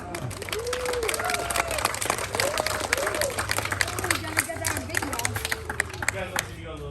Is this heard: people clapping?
yes